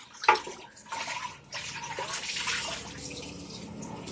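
Water runs from a tap while dishes are washed in an outdoor dirty kitchen, a steady splashing stream close by with clinks and a brief knock at the start.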